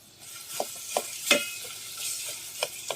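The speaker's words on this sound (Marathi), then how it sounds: "तेलात फ्राय करायचा." Mutton with Konkani masala fries in oil, a soft continuous sizzle broken by several sharp stirring scrapes and pops at irregular intervals, close and fairly quiet.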